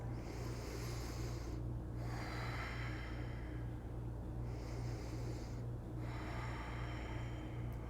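Slow deep breaths during a yoga pose, each long airy inhale and exhale close to the microphone over a steady low hum, about two full breaths in sequence.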